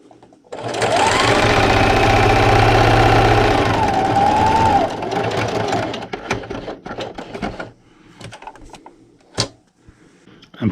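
A home sewing machine runs fast and steadily for about four seconds as it stitches fabric for a quilt ruler holder. It then stops, and a few quieter mechanical clicks and handling sounds follow.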